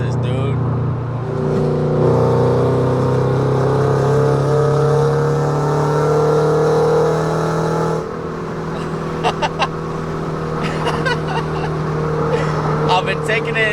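A Pandem widebody Toyota GR86 engine rises in pitch while driving, revving and holding a steady drone, then easing off as someone talks over it.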